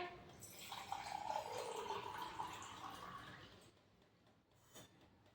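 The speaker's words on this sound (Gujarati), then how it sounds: "અને આ ચકલી ટપક્યા જ કરે." A leaky kitchen tap lets water run and trickle in a home, a faint, soft wash of water for about three seconds that fades to quiet, with one small knock near the end.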